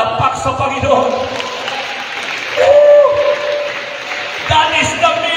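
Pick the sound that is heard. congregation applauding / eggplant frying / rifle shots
congregation applauding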